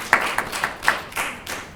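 Audience applause at a school meals conference, a short burst of several sharp claps rising and falling, fairly close and moderately loud, with no voices.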